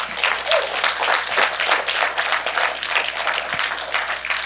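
A church congregation claps after a prayer during a sermon; lively, fairly loud clapping with a slight rhythmic pulse, and a few brief thumps.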